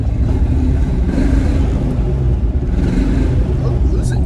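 A Land Rover Discovery II with a faulty engine downshifts and revs while driving, giving a loud, steady low rumble that swells slightly, with a voice talking over it.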